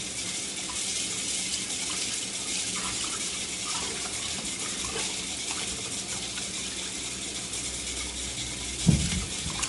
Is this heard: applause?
no